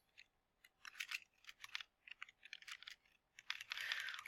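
Rapid keyboard typing, a quick run of light plastic key clicks in uneven bursts that enters spreadsheet cells, close and fairly quiet, with no voices.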